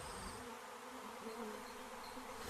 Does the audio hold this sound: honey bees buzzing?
yes